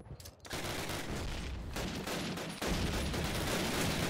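Sustained gunfire in Call of Duty: United Offensive, a dense, continuous crackle of overlapping shots and distant battle noise that swells after a brief quieter opening and stays loud throughout.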